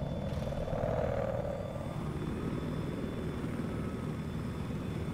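A helicopter in a video game, a steady droning rotor and engine roar holding at an even level with a brief brighter whoosh near the start, and no talking.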